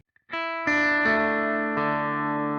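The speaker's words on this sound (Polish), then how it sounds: "Ostatnie dźwięki to zagranie strun po kolei od pierwszej do czwartej w takim oto rytmie" Four electric guitar notes are plucked one after another, the first two quick and the last two slower, ringing out with a distorted, shimmering tone.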